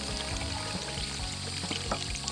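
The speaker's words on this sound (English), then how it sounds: "We're going to shut this water down." Water pours and splashes steadily at a mountain gold-prospecting site, a soft close gush with small bursts of spatter, continuous and fairly faint.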